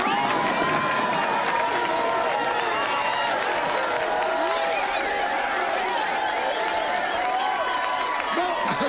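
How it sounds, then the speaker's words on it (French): An audience of a French comedy show claps and cheers in a sustained, dense burst of applause that fills the whole stretch at full volume. "Fait qu'on va y aller par applaudissage."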